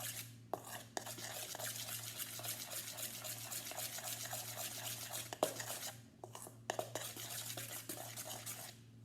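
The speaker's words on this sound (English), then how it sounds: "Let's start mixing and see what we can make." Cloud dough being mixed in a bowl, a steady soft stirring and scraping with occasional louder knocks against the bowl, close and continuous with no talking.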